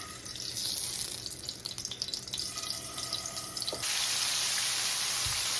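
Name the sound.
pouring cooking oil into pan for frying shrimp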